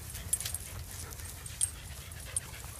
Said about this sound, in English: A little train of dogs.